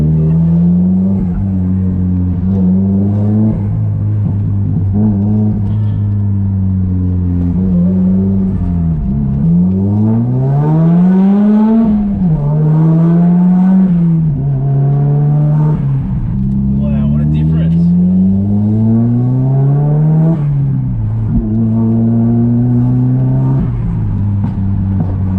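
A Nissan S15 fitted with a new resonator and turbo revs up close and loud, its engine note repeatedly climbing and dropping in smooth sweeps over a steady rumble.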